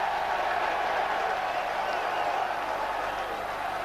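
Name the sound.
ironic cheers from the Wakefield rugby crowd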